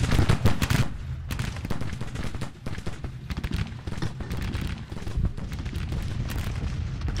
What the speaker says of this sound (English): why don't we just line up and start firing?